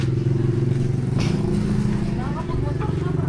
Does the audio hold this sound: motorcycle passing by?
yes